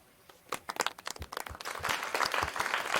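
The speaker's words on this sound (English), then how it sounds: "Please clap if you can see my screen." Audience members at a creator summit session clap, starting with a few scattered claps and building into a fuller, steady round of applause.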